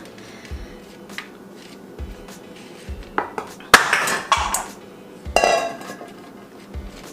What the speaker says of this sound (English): so I'm just gonna spray with that and then separate these out.